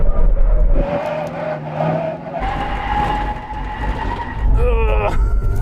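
A Tesla truck performs a full emergency stop from 70 mph on a test track, with loud vehicle and road noise and tire skidding and squealing, while people talk over it.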